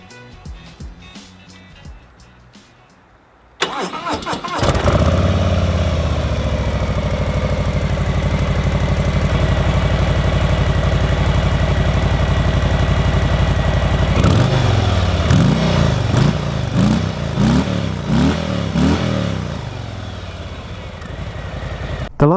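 A stock 2019 Harley-Davidson Softail Slim V-twin fires up and settles into a loud, steady, lumpy idle heard up close, with a few throttle blips giving rhythmic surges in the second half before the engine eases back down.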